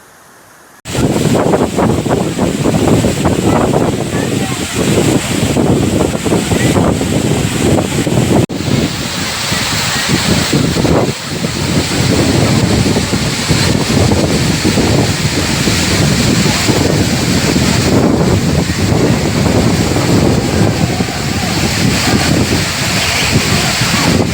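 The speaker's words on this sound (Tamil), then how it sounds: "அங்க இருந்து தண்ணி ஊத்துற அழகா பாருங்க எவ்வளோ அற்புதமா அழகா இருக்கு பாருங்க அந்த சவுண்டை கேட்கவே அவ்வளோ சூப்பரா இருக்கு" Agaya Gangai waterfall in the Kolli Hills pours down in a loud, continuous roar of falling water, close by and unbroken, with some wind buffeting the microphone.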